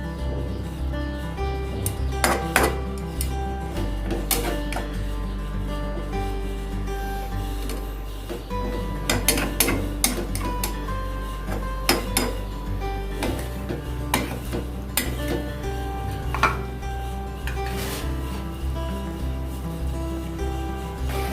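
Chicken leg pieces are stirred and mixed in a cooking pot for chicken kali mirch, with repeated metallic scraping and clinking of a spoon against the pot over a constant low cooking hum.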